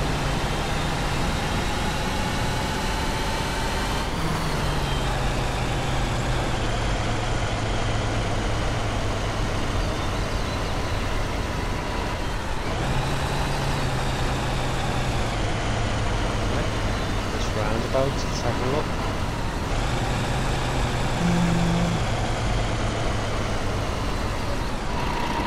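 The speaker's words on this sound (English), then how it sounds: "and the roar of the engine." A coach bus engine in the Fernbus Simulator driving game roars loudly and steadily as a constant drone, with its pitch shifting at a few points as the engine revs change, and no talking over it.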